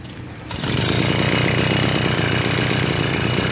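An 80cc bullet train engine mounted on a Schwinn Stingray bicycle starts up after a short quiet moment, then runs steadily at a loud, buzzy idle close by with a fast, even putter.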